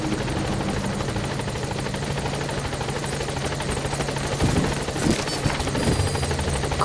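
A support helicopter arriving in a video game, with rotor thump and engine roar holding steady and close throughout, then a few sharper bursts near the end.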